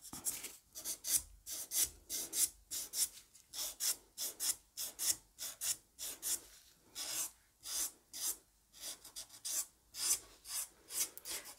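A portable electric nail sander smoothing gel nails, with soft rhythmic rasping strokes repeating steadily back and forth, faint and close with brief gaps between passes.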